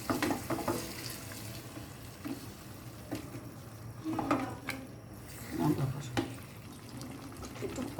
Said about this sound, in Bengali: এখন আমি এই যে মাংসটা যে ম্যারিনেট করেছি সেটা আমি সব দিয়ে দিচ্ছি। ভালোভাবে নেড়ে ছেড়ে দিচ্ছি।